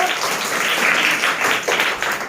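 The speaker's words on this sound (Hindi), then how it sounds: "तालियां बजा दो" Schoolchildren in a classroom clap for a classmate who answered correctly, a dense burst of small hands close by, steady for a couple of seconds.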